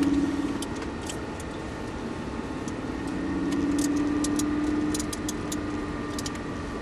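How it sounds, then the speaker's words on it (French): A car engine hums close by in a pit lane, rising gently in revs as it accelerates a little, with a steady mid-pitched drone and a faint tonal whine. "on va juste accélérer un petit peu histoire de pouvoir cliquer la 2"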